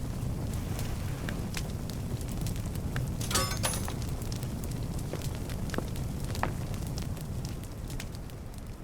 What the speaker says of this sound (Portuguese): Talvez tenha exagerado no fogo